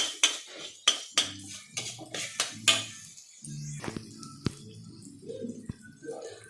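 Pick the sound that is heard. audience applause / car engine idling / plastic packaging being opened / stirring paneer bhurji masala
stirring paneer bhurji masala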